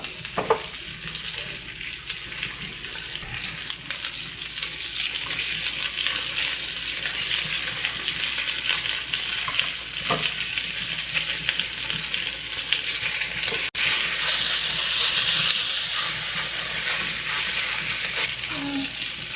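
Pepper garlic butter chicken frying in hot oil, a continuous close sizzle with faint scraping and stirring clicks throughout, growing slightly louder and brighter in the later part.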